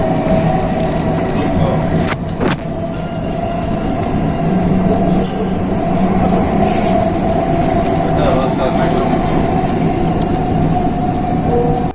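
A Delhi Metro train running at speed, heard from inside as a loud, steady rumble and whine with a couple of brief squeals, continuing throughout.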